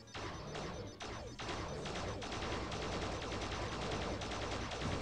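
Shooting a dinosaur robot mini boss in the Toy Story 2 video game: a dense, continuous barrage of rapid game gunfire and crashing impacts, loud and unbroken for several seconds, with no talk.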